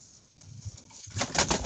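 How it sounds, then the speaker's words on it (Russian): A young pigeon indoors in a room gives soft, low cooing with fluttering bursts, closer and louder toward the end of the short stretch, with no talking. "Голубенок, не могу загнать, летает по комнате."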